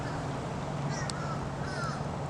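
Two brief crow caws sound in the distance over a steady, low background hum.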